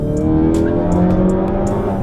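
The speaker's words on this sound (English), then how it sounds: "Actually, this car's way too loud." A Ferrari engine revs loud and steady for two seconds, with a thick, sustained growl and brief whooshing overtones on top.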